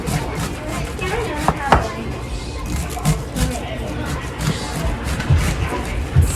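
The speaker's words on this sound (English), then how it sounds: "going to finish cutting up my cabbage because to me that's the worst part of making this." A knife chops through cabbage on a cutting board in a home kitchen, with repeated close thuds in an uneven rhythm and a bit of background household chatter and TV.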